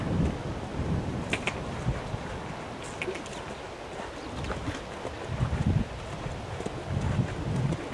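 Hooves of a young horse not yet four years old performing passage and piaffe, soft rhythmic thuds on arena footing repeating at a measured cadence, fairly close, with birdsong chirping in the background.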